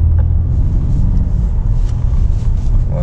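A BMW 530i engine accelerates from inside the car as a low, steady rumble that holds level throughout, with no voices over it.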